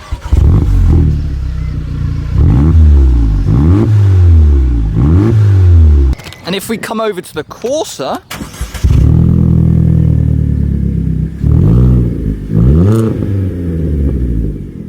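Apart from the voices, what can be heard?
car exhaust revving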